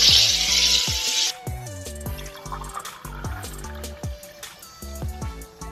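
A home sparkling water maker hisses sharply for just over a second as it carbonates water, then falls quiet, with background music playing throughout.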